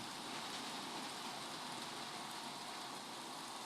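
Heavy rain drums on a delivery truck in Olongapo City as a dense, loud, unbroken roar that holds steady throughout, with no voices.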